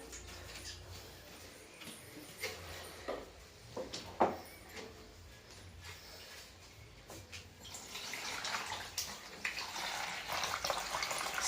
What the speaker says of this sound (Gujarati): આ જો પાણી નાખે છે કુલરમાં.